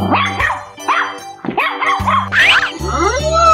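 A dog in a children's animal basketball game barks in a quick series of loud, close yips and woofs, layered over a bouncy musical backing.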